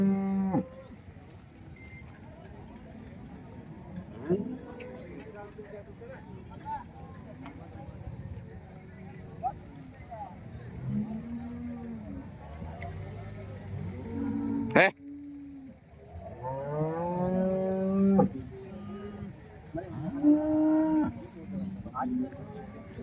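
HF cows low repeatedly at a busy cattle market in Neknoor, deep drawn-out moos rising over steady background chatter and people talking nearby.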